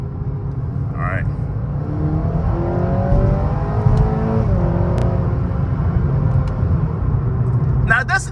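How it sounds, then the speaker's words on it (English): A 2021 Acura ILX engine revs up under acceleration, its pitch climbing steadily as the drone stays loud and continuous throughout. "Now, it doesn't necessarily rev exactly at 7 grand."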